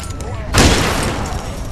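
A single sharp shotgun blast in The Walking Dead video game, one loud close burst that rings out briefly and decays over background noise.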